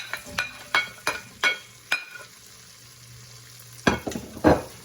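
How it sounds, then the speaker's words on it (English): Chunks of celery, onion and carrot, a mirepoix, sizzling in butter in a pot while being stirred, with a quick series of sharp scraping strokes, a quiet pause, then more clattering stirs close by. "We have a mirepoix, some chunks of celery, chunks of onions, chunks of carrots going in."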